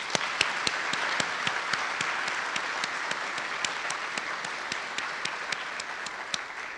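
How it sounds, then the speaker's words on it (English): Warm applause fills a room at a university scholarship breakfast for a speaker named Lori, a steady crowd wash punctuated by sharp, evenly spaced claps from someone close by. "I'd like for you to give Lori another round of applause."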